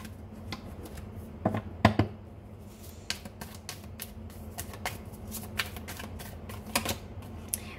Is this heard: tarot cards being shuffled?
yes